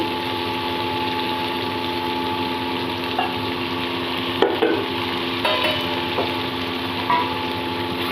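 Spiced potatoes are stirred with yogurt in a pan, a steady sizzle and frying hiss running underneath with a few soft scraping clinks from the spoon, close by.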